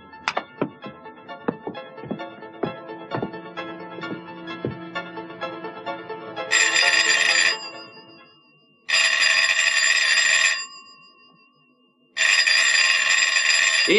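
A landline telephone in a home rings in three long loud electronic bursts with pauses between, after a stretch of knocking and clattering thuds.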